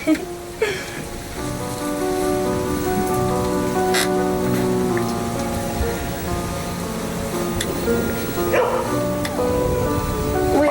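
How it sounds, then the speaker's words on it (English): Dog barking in a few sharp, scattered barks, heard over steady rain falling on a surface. "Wait, what was that? Sounds like a dog."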